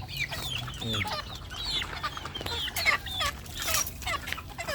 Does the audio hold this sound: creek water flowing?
no